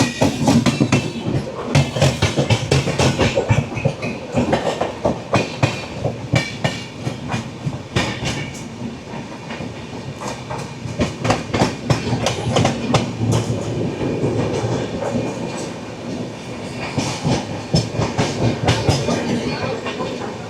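The 22644 Patna–Ernakulam express thunders past nearby, long continuous rumble with rapid clicking wheel beats and rattling carriages, loud throughout, with no talk.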